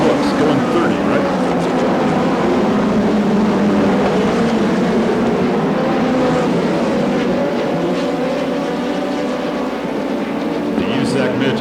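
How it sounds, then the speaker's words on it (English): USAC midget race cars lapping a half-mile dirt oval at Perris, California, a steady loud engine roar with passing swells, under continuous announcer commentary. "The USAC Midgets, flat cooking on the half mile"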